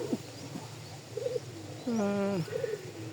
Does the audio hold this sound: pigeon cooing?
yes